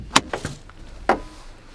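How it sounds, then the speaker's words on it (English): A Hyundai Bayon hybrid's petrol cap flap is released and opened, giving a few short plastic clicks and thunks close by, three quick ones followed by a single louder click a moment later. "This is where you release the petrol cap."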